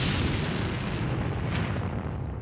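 Artillery guns fire in Sudden Strike 2, a continuous heavy rumble of booming, overlapping blasts that stays loud and dense for the whole stretch with no single shot standing out.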